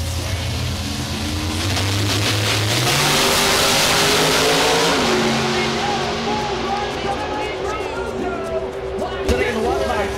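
A Pontiac-powered top sportsman drag race car engine revs up hard and climbs in pitch, then holds a loud, steady high-rpm drone as it pulls away. An announcer talks over it.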